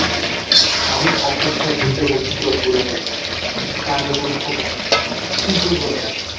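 Water runs steadily into a pot of cooking chicken curry with potatoes, a continuous close splashing pour lasting several seconds with small clinks, and a voice may murmur faintly beneath it.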